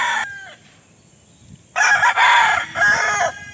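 A gamefowl rooster of the Thompson white bloodline, a butcher over Thompson white cross, crows loudly and close, a short call followed by a longer full crow.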